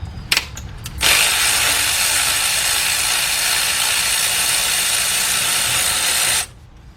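Ratchet wrench loosening a clamp bolt near the starter of a 2005 Cadillac CTS 3.6 during oil pan removal: a few sharp clicks, then a steady, rapid, close ratcheting rasp that runs about five seconds before stopping abruptly.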